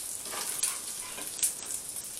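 Egg, bacon and cheese cooking together in a hot pan, a soft steady sizzle heard close up with a couple of faint crackles and no talking.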